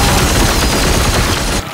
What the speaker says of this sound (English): Confirm. Opening fire.